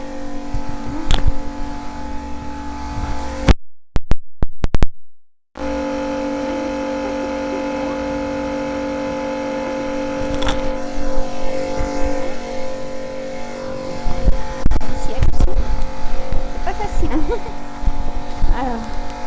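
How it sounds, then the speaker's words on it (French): A car drives past outside a home garden, its engine swelling and fading across the scene while someone talks over it. "Désolée pour la voiture."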